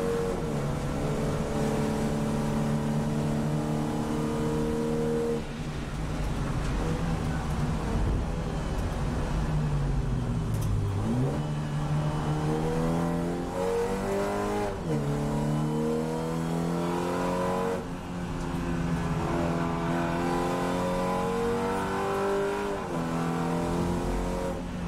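A race car engine runs at full speed through a track lap, loud and continuous, its pitch climbing through the gears, dropping sharply on downshifts near 11 and 15 seconds, then rising again.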